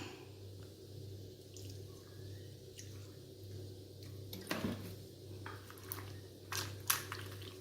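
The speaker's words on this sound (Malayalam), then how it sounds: "ഇനി നമുക്കതൊരിപ്പം വിനാഗിരി ഒഴിക്കാം." Vinegar poured over pitted dates in a kitchen while making a lemon and date pickle, heard as a soft, steady liquid trickle with faint splashes and a few brief clinks near the end.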